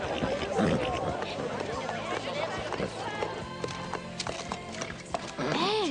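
A horse clip-clops and whinnies nearby, uneven hoof beats mixed with a rising neigh at the end, set among murmuring voices and other background sounds.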